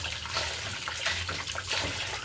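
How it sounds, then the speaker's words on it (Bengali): Water gushes and splashes steadily for a couple of seconds as it is poured over a person's head, a close, continuous pouring sound like a bucket tipped out. "মাথায় পানি দিলাম"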